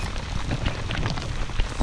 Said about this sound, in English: The humidity on my skin and the thunderheads above that had been building all day finally collapsed into a storm, and it really started coming down on us.